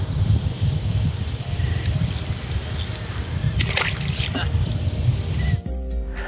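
A small cabrilla, a sea bass caught from a boat while fishing off Antofagasta, is dropped back into the sea with a brief splash near the end, following steady boat and water noise with someone speaking Spanish over it.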